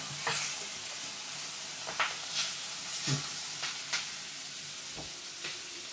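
Garlic and sliced onion fry in a pan with a steady broadband sizzle, broken by several sharp scrapes and clicks of stirring spread across the few seconds, close and fairly quiet with no voices.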